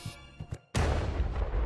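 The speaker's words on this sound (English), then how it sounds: "That sounded like a gunshot." Gunshot-like bang in the video game Night in the Woods, a single sudden loud blast after a few soft thumps and near silence, followed by a sustained dense roaring rumble.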